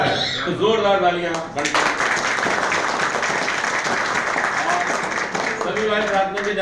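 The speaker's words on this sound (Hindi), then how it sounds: "जोरदार तालियां" Loud, sustained applause from an audience at an addiction-recovery class, a dense wash of clapping that runs steadily for several seconds with voices briefly audible at the start and end.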